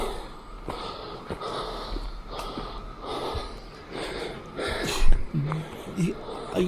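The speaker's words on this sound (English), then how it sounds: "You can forgive this breathing because, I mean, it is steep." Heavy, labored breathing from someone climbing a steep hill, with close puffs and snorting gasps that repeat unevenly. Quiet background noise runs under it.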